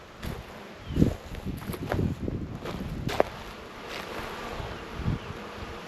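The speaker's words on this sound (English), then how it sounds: "So you can see we've got bees all on the outside of this one. They are coming in and out with pollen and nectar" A steady insect buzz with several honeybees droning close by at a beehive entrance, rising and falling as they fly in and out, with some faint rustling in the background.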